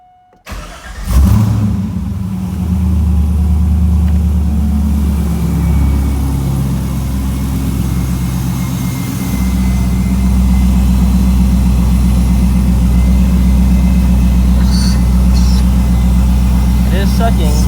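Chevrolet Corvette C5 V8 with a newly fitted eBay intake cranking and firing up for the first time, then settling into a loud, steady, deep idle that holds close and continuous.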